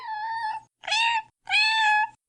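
A kitten on the way home in a car's back seat meows three times in quick succession, each call clear, close and fairly loud, with short pauses between.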